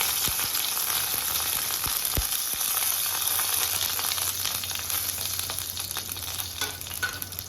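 Garlic, curry leaves and fenugreek seeds fry in a pan for a village-style lobster curry, giving a steady, close sizzle with a few soft stirring knocks throughout.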